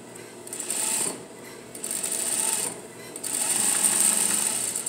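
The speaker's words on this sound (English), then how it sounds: "We're gonna sew a half inch seam all the way around the bag, just at the bottom of the bag." Sewing machine running in bursts as it stitches a half-inch seam around the bottom of a jeans front pocket bag, with a steady whirring hum that pauses briefly between runs, close and fairly loud, without talk.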